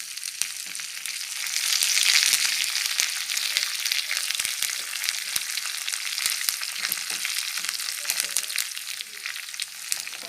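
Dried red chillies and curry leaves fry in hot oil for a tempering, giving a steady, fairly loud sizzle and crackle with scattered sharp pops, swelling briefly early on and then holding even.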